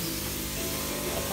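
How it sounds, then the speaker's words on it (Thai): Photosynthetic bacteria solution sprayed onto flowering plants from a close sprayer, a brief, continuous hissing burst that holds steady from start to finish. "เดี๋ยวจะฉีดให้หมดนะเป็นพืชดอกแล้วก็ฉีด"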